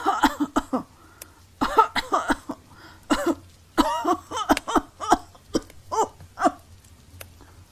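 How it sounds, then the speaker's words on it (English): A long bout of harsh, repeated coughing, a dozen or more rough bursts in irregular clusters with brief gasping pauses between, close and loud with a quiet ambient hum beneath. "How long have you had that cough?"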